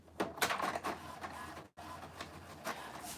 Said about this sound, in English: So let's hit Print, and let's just see what happens.